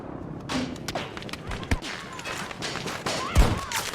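Scattered gunshots and thuds from Battlefield 2042 crack out at irregular moments, a few sharp and close among fainter distant shots, with people talking over the fighting.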